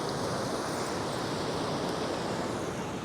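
Ocean surf breaking on an Oregon coast beach, a steady, full wash of rushing water and spray that fills the whole stretch without pause, loud and close with a touch of wind.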